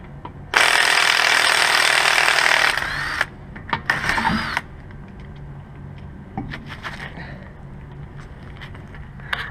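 A Craftsman impact wrench loosens bolts during a Subaru Forester spindle replacement with two loud, close hammering bursts, one long and one shorter, followed by quieter clinks and handling noises.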